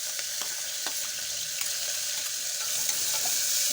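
Green chillies and curry leaves fry in hot oil for a pulao, a loud continuous close sizzle with crackles and small pops throughout, no voices.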